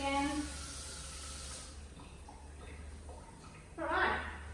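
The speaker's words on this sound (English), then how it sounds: "I'm just going to rinse my hands off again." Tap water running into a kitchen sink while hands are rinsed, a steady hiss and splash under a low hum, with a louder surge of water near the end.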